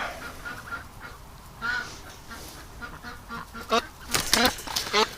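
A Muscovy duck in a swamp gives a series of hoarse, honking calls, faint at first and then louder and more rapid toward the end, with no voices over them.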